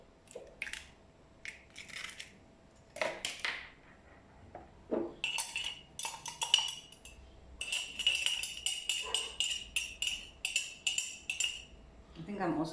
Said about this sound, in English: I'm going to break another egg in my cup.